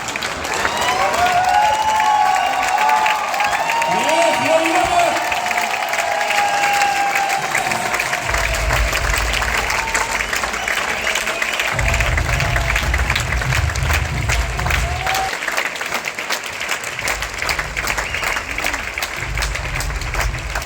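A crowd at a company anniversary event claps and cheers to welcome a guest onto the stage, a loud, sustained roar of clapping with scattered whoops, while low rumbling bursts come and go underneath.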